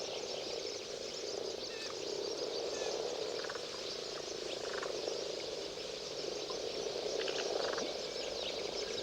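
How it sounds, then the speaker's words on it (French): Frogs croak in a spring wetland, a dense, continuous chorus of overlapping calls with scattered rattling trills and insect-like chirps, steady and moderately loud with no voices. "Dès le printemps, elles annoncent la saison des amours par leur coassement."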